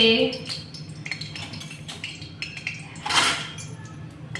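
A ladle scrapes and clinks against a kadhai while jackfruit cooks in oil, a few light metallic knocks with one louder scrape near the end, under quiet background noise.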